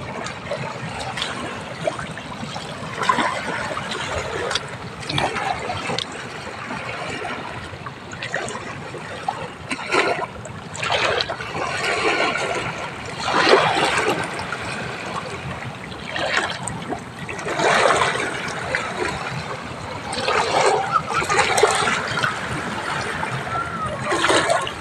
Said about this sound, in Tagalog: Normal lang po ang alon ng tubig ng karagatan,